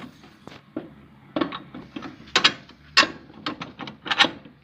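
A bolt is fitted into a Kirloskar power tiller's ridging plough attachment. Irregular metallic clanks, knocks and ratchet-like clicks come in short clusters, close and moderately loud, with no voices.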